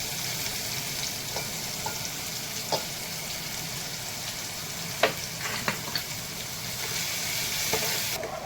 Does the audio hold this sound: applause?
no